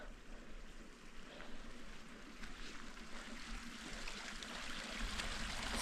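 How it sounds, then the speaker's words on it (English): Small mountain streams in Grand Teton National Park give a steady, broad rushing and trickling of water, continuous and moderately close with no talk over it. "So many little streams."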